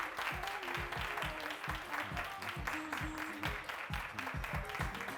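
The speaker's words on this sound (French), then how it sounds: "Merci de l'applaudir." A television studio audience claps in a steady, dense burst of applause. The sharp hand claps repeat evenly and stay at the same level for the whole stretch, with no voices over them.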